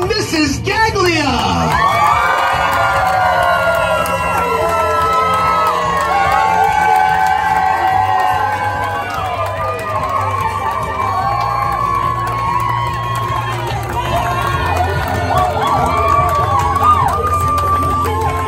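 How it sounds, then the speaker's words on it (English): Wedding guests at a mansion reception cheer loudly for the newlyweds, making a dense, continuous wall of whoops, shouts and crowd noise. Music and voices run underneath throughout. "please put your hands together for our newlyweds, Mr. and Mrs. Gaglia!"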